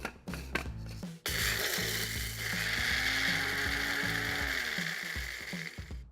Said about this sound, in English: now we just grind that up till we get a powder consistency